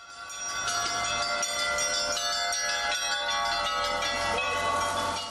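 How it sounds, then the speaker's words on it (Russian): Church bells ring out over the city streets of Ufa during an Easter procession, a dense clangour of many overlapping strikes sounding continuously at moderate distance with street hiss underneath. "На Уфимских улицах раздавался колокольный звон."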